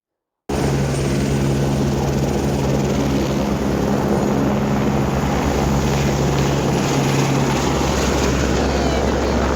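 A helicopter lifts off from the Kedarnath helipad, its loud, steady rotor and engine roar close by and continuous throughout, with no speech.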